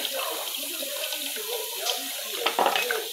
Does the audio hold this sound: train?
no